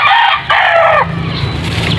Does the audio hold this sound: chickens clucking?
yes